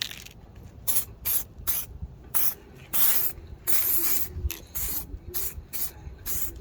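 Self-etching primer sprayed onto bare-metal spots of a car body during a rust repair near the rear windshield frame: repeated short hissing bursts of varying length, close and fairly loud, with brief quiet gaps between passes.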